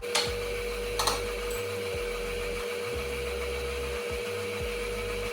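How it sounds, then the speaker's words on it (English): A blender running on its rice milk setting whirs steadily with a low, pulsing sound that rises and dips in regular cycles, close by and with no talking. "we're going to put the lid on our blender, and we're going to turn it on"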